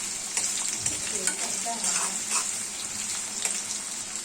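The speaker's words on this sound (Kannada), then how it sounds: "ಈ ಥರ ಮಿಕ್ಸ್ ಮಾಡ್ತಾ ಅದನ್ನು ಫ್ರೈ ಮಾಡ್ಕೋಬೇಕು." Chopped onions fry in hot oil for a dill leaf stir-fry, a bright continuous sizzle with the occasional scrape of stirring, close and steady.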